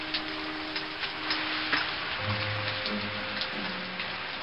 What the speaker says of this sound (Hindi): इतने में ही बारिश शुरू हुआ।